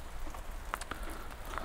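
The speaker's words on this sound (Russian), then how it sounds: "вот такие струи дождя" Heavy rain outdoors at a country dacha near Odesa beside a marshy yard, a faint, steady hiss with scattered drops tapping close by.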